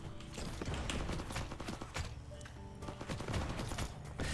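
Rapid automatic gunfire from a submachine gun in a horde survivor video game, a dense continuous rattle of shots layered over busy game sounds and music, steady and loud throughout.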